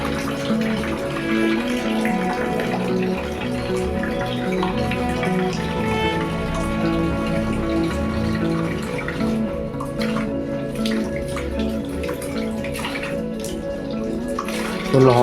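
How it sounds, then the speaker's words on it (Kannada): Hot water from an instant tap geyser faucet runs in a continuous close stream, splashing steadily for the whole stretch with a slight change in tone near the end. "ಬಿಸಿ ನೀರು ಬರತ್ತಾವ ಈಗ"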